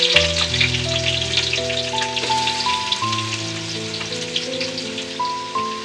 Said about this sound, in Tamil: உப்பு சேர்த்திட்டு நல்லா கோல்டன் ப்ரௌனாக அதை ஃப்ரை பண்ணிக்கோங்க